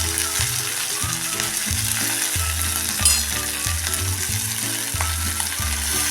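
Cluster beans and onion sautéing with ground masala, a loud continuous sizzle close up, with rhythmic scraping strokes of a spatula against the pan repeating every half second or so.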